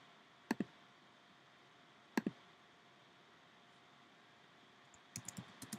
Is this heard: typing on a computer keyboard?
yes